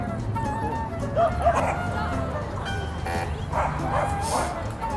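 Pembroke Welsh and Cardigan corgis at an outdoor corgi meetup give a few short yips and barks with a faint whimper, partly masked by steady crowd chatter and people talking nearby.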